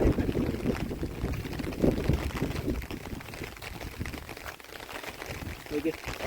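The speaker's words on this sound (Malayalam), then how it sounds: "കാറ്റും മഴയാണ്." Wind buffets the microphone outdoors among small rock pieces during wind and rain, a continuous rough roar under a person talking throughout.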